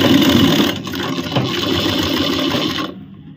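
A sewing machine stitches a ladies' suit, its dense mechanical whirring running steadily close by for nearly three seconds before it stops abruptly.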